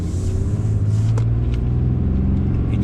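A 2018 Ram 2500HD diesel pickup revs hard, its engine a loud, close, deep rumble that climbs steadily in pitch for a few seconds, with no voices.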